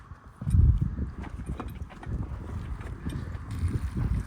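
Horses' hooves clop unevenly on ground beside running water while two thirsty horses, one a limping Appaloosa, move about at a ranch, with steady scuffing steps and light wind noise throughout.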